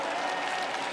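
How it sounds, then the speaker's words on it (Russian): Figure skating fans at a Russian Grand Prix final event fill the arena with a dense, steady wash of cheering and applause, loud and continuous throughout. "Ну и дайте максимум шума, болельщики."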